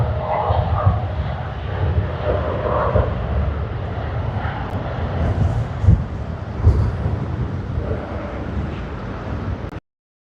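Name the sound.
United Airlines Boeing 787-9 jet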